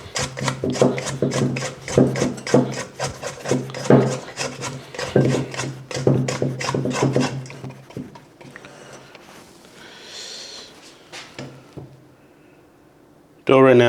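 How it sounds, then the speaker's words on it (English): Spatula scraping down sticky sourdough in a bowl, making rapid repeated rasping strokes, close and fairly loud, then slower softer scrapes and a quiet stretch, with a sudden louder sound at the very end. "Get a spatula and scrape down."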